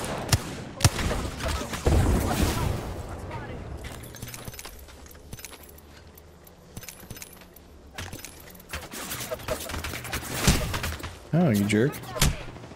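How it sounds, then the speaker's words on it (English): Gunshots from Apex Legends crack out in scattered bursts, loud early on, then sparser and fainter, with a player talking briefly over the fighting. "I'm getting shot from over there."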